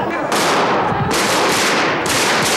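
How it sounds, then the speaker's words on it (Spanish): Gunfire bursts out during the 23-F coup attempt in the Spanish parliament, a loud, harsh rapid volley in repeated bursts filling the short moment. "En aquel momento oímos los tiros y lo vimos entrar."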